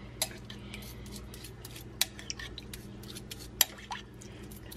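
A spoon mixing something in a cheap container, giving sparse light clinks and scrapes with a few sharper taps among quiet background hum.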